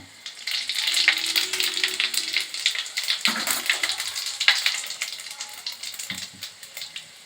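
Cinnamon, cardamom, cloves and panch phoron sizzle and crackle loudly in hot oil for a Bengali fish curry with cauliflower and potato, a dense continuous frying hiss with brief stirring sounds.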